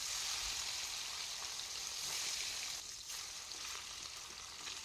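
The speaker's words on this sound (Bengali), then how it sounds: "এখন মাছগুলো ভেজে নেব।" Fish frying in mustard oil in a pan after cumin seeds were fried, giving a steady, continuous sizzle and crackle that holds at an even level throughout, close by, with no talking.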